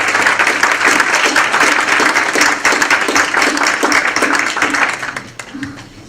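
Audience applause for the panelists at the close of a public policy forum, a dense crowd clapping steadily and loudly for about five seconds before thinning out at the end.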